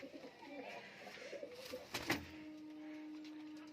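Giribaz pigeons coo softly in a loft, low throaty calls repeating close by alongside a few faint rustles and a brief sharp knock.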